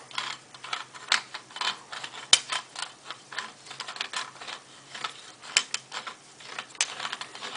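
A threaded assembly being unscrewed gives off close, irregular scraping clicks and faint ratcheting ticks, with one sharp snap partway through.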